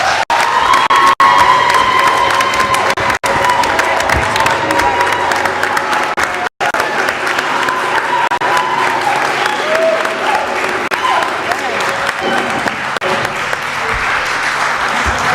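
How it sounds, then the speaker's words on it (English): A board of education meeting audience breaks into loud sustained applause mixed with cheers, whoops and children's shouts, holding steady throughout with brief sharp dropouts. "let's have a round of applause for that"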